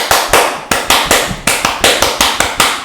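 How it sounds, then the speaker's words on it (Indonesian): A group performs the scout rhythmic clapping cheer (tepuk pramuka), with about a dozen sharp, loud claps in a patterned beat and no voices. "Tepuk pramuka."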